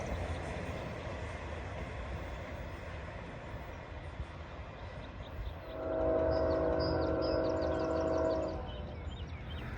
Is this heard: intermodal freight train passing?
yes